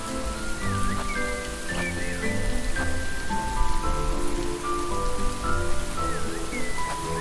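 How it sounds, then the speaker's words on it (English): Steady rain pours on a surface in a video game, a dense, even patter running throughout with no pauses, while soft musical tones and effects play faintly underneath. "Oh, the rain's only getting worse."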